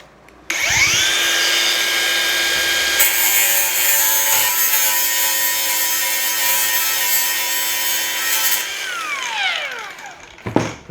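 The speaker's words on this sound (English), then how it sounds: "I'm just cleaning the metal a bit so that I can get earth running through my metal" Metal being cleaned by a grinder ahead of welding a spot light repair, a sustained high whine that spins up, holds close and loud for about eight seconds, then winds down.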